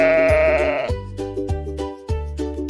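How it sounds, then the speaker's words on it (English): A sheep bleats loudly in a long wavering cry at the start, followed by softer rhythmic tonal sounds, close and clear with no talking. "Let's hear how the sheep sounds."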